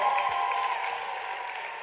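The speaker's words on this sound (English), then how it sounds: "Give the guys a nice round of applause as well." Applause from the audience at a dance gala for outstanding dancers, a dense, steady patter of clapping that fades slightly over a couple of seconds.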